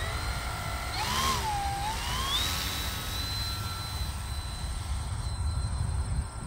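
An FMS 1450mm Spitfire RC model plane rolls down the runway for its maiden flight, its electric motor whine sweeping up and down in pitch over steady outdoor wind rumble.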